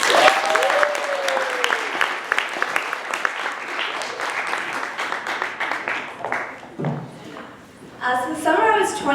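Audience applause greets a storyteller walking onto the stage at a live storytelling event, a dense, steady clapping crowd that fades around seven seconds before a voice begins speaking over the last of it.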